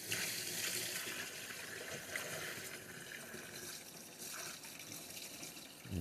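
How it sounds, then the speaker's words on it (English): Water being poured into a home humidifier, a steady close splashing rush that keeps going for several seconds without a break, with no talk over it. "At this point, we will add the water."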